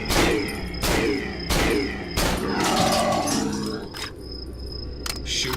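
Gunfire in the horror game Cry of Fear, a run of five or six sharp loud shots spaced roughly evenly, each followed by a ringing decay, with fainter ambient rumble between and no talking.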